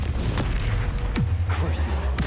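A Confringo spell explodes in Hogwarts Legacy with a deep, rumbling boom and crackling bursts over a low magical hum, loud and close, alongside a short voice call.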